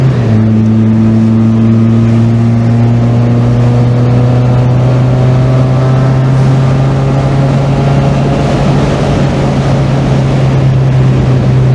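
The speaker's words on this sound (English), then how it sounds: "That little exhaust leak honestly gives just enough sound for me to enjoy this thing" A Mazda Miata with a small exhaust leak drones steadily while driving, a loud, close, continuous engine hum with strong low harmonics that slowly rise and fall as the revs change.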